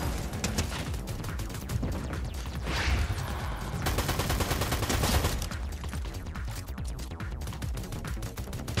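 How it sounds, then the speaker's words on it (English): Rapid pistol shots from the video game Fortnite crack in dense, repeated bursts across the whole stretch over a steady game background, with almost no break. "Bro, this pistol sounds so cool."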